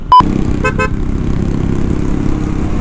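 A car horn gives a short sharp beep, then two quick honks follow close together over steady road and engine noise.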